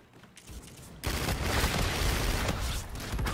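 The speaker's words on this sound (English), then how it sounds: "Assault rifle mode." Sustained rapid bursts of assault rifle fire in Call of Duty: Infinite Warfare break in after a quiet second and stay loud and continuous to the end.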